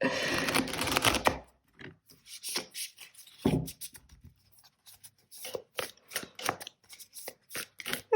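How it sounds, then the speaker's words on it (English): Cards riffle in a dense, fluttering burst for about a second, followed by a string of irregular soft slaps and shuffling taps as the deck is handled up close. "I'm going to try to shuffle like this again"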